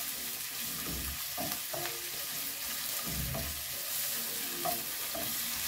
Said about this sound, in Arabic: معلقه صغيره ديال الثوم، حركوها مزيان مع البصل